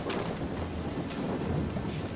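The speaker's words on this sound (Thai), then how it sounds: "ฝนก็หนำมากเลย" Heavy rain pours in the Far Cry 6 video game, a dense continuous wash of noise with a low rumble beneath it, steady and close throughout.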